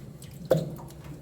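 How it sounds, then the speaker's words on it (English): Water draining from a kitchen sink after washing greens gives a single close gurgle and plop against quiet background, brief and moderately loud, with no speech. "I'll let this water out"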